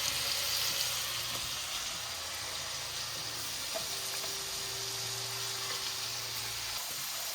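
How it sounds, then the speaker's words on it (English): Garlic steak bites sizzle steadily in a hot pan, a close, continuous frying hiss that stays fairly even throughout. "Oh yeah, I love that sizzle."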